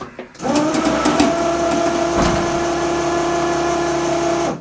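A car engine with a sequential gearbox starts and runs with a steady, loud droning idle close by, with a few short clicks and knocks near the start and a slight rise in pitch.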